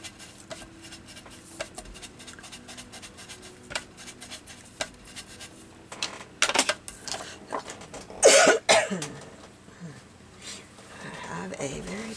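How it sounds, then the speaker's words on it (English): Several harsh coughs burst out close to the mic, loud and clustered, surrounded by quieter rustling and handling noises. "I have a very annoying cough"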